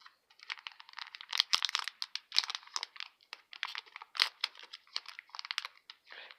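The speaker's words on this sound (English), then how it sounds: "There, I got to just tear it up." Close crinkling and ripping of a plastic trading card pack wrapper, in short irregular bursts with sharp crackles between quieter pauses.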